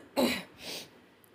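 A single short cough, close and fairly quiet, followed by a softer breathy exhale.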